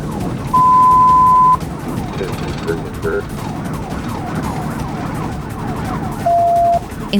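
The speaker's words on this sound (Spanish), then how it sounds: "Encendí mis luces de emergencia y sirenas" A police car siren wails during a high-speed chase, with two steady sustained tones bracketing fast yelping sweeps, loud and close over road and engine rumble.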